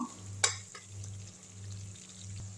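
Garlic pickle fries in oil in a pan with a quiet, steady bubbling sizzle over a low hum, broken early by one sharp metallic click, close by and without speech.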